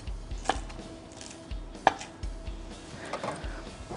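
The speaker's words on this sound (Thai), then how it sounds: "ผักชี หั่นเป็นท่อนๆ" A few sharp knife chops through coriander on a cutting board, spaced irregularly, fairly quiet, with light kitchen background noise.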